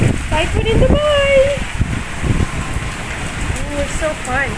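Steady rain in Dubai during a rare storm, a constant hissing patter close by, running beneath people talking excitedly.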